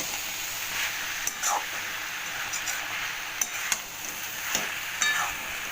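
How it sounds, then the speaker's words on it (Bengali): Dried small fish being mixed with vegetables and spices in a pan, a soft continuous sizzle with intermittent spoon scrapes and light clinks, close by. "মিশিয়ে ভালো করে সবজির সাথে, মশলার সাথে শুটকি মাছটাকে"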